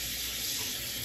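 Warm water pours from a running tap for face washing, a steady close splashing hiss that continues without a break.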